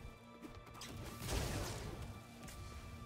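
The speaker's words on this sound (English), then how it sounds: "the hell, that explosion looks awesome." A loud crashing explosion from a spell in the action RPG Wolcen: Lords of Mayhem, one heavy burst swelling and fading over game ambience and background music.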